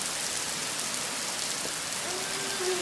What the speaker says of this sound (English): There's a lot of rain out there.